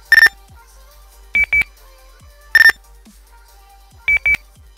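Custom TeamSpeak 3 mic click sounds play as alternating electronic chirps: a single short tone, then a double blip, repeated twice, crisp and close against near silence.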